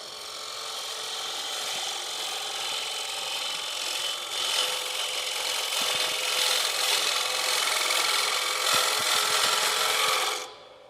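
A woodturning tool cuts steadily into spinning wood on a lathe, a continuous dry scraping and hissing rasp with slight chatter, holding for about ten seconds before stopping abruptly; no speech.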